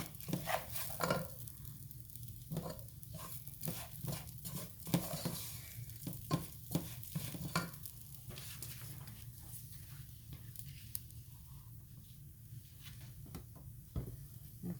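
A spoon scrapes and knocks while stirring rice pilaf around a pan, producing irregular soft clacks and brushing strokes over a faint low sizzle, fairly quiet and close, with occasional brief pauses.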